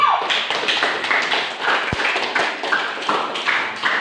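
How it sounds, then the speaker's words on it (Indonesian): Classroom applause from a group of students in a physics lesson on levers, a dense patter of many hands clapping steadily and fairly close for about four seconds, with no talking. "Tepuk tangan untuk semua dulu"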